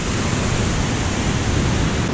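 The Sekumpul waterfall in Bali roars as a loud, steady broadband rush of falling water, unbroken for two seconds with no voices.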